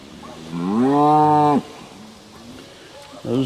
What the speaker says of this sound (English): This cow right here, I need them in.